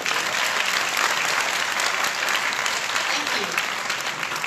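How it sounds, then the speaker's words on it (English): An audience at a Nu Skin talk on the ECOSPHERE water purifier applauds distributors and sales leaders, a steady dense round of clapping through the whole stretch, with a brief spoken thanks over it. "please give them a round of applause"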